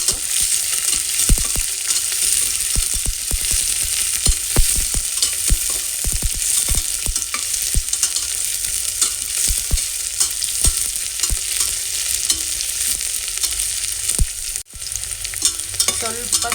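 Onions fry in oil with whole spices for a vegetable broccoli pulao while a spoon stirs them steadily, producing a continuous close sizzle with repeated scraping clicks against the pan and no talking.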